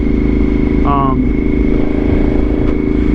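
Suzuki SV1000S motorcycle engine droning steadily and loudly throughout a ride, a constant rumble with a brief higher whine partway through.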